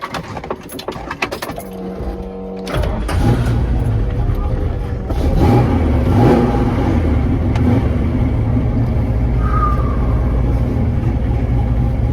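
A 1969 Camaro pulls away on the road, its engine rumbling low and steady from inside the car after a few clicks and knocks, with a voice speaking over it.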